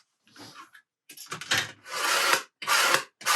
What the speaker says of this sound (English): You can hear just how thick and durable this extreme finish is on this plastic squeegee.